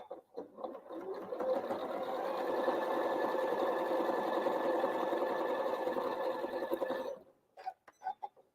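A sewing machine runs in one steady, continuous burst for about seven seconds stitching a quarter-inch seam on quilt block fabric, then stops, followed by a few light clicks and handling sounds.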